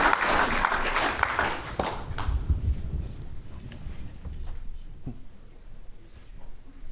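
An audience at a startup pitch contest applauds a presenter, loud and dense clapping at first that thins and fades over the following seconds into scattered claps and room noise.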